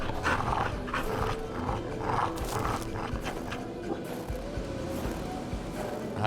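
Wolves growl and snarl in the video game Kona, a dense, rough, continuous rumble of several animals close by.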